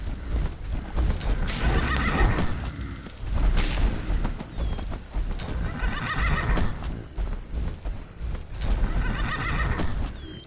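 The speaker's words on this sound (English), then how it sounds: "I'm trying to tame this horse." Horse being tamed in the Skyrim video game, neighing and whinnying in repeated loud bursts with hooves clattering between them, close and insistent throughout with no voices.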